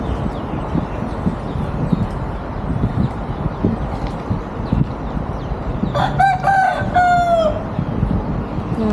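A rooster crows once, loud and close, rising then holding a long drawn-out note, over a steady rumble of low background noise, among chickens in Thailand.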